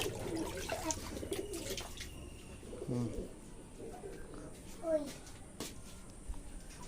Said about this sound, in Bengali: তো পায়রাগুলো অলরেডি সব খুলে দিয়েছে, এই যে এক করে নামছে খাঁচা থেকে